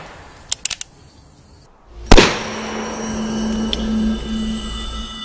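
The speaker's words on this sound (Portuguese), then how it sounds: "Um vizinho viu o clarão da pólvora e ouviu o tiro" A single loud gunshot sound effect bursts out in a dramatized reading of a classic German novel, preceded by faint clicks and followed by a lingering reverberant tail and low rumble.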